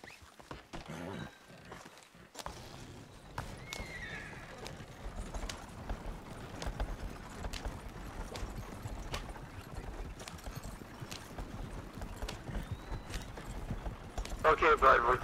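Hooves of a horse-drawn wagon clip-clop steadily in Red Dead Redemption, a continuous rhythmic trot at moderate distance beneath game ambience, with a voice talking over part of it.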